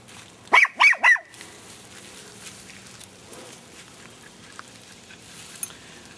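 A young puppy lets out three quick, sharp barks in a row while playing, close by, followed by quiet shuffling and faint movement.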